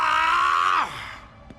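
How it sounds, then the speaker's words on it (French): A cartoon character's loud, sustained scream that holds steady, then drops sharply in pitch and trails off into quiet, close and alone. "J'ai entendu crier."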